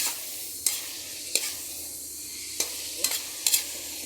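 Chapsoy with liver stirred in a frying pan: a steady sizzle underneath, broken by several scraping spatula strokes at irregular intervals, close and clear with no talking.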